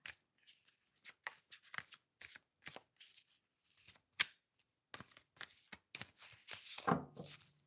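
Cards being riffled and shuffled repeatedly at close range, bursts of flapping paper in irregular rhythm with a longer riffle near the end.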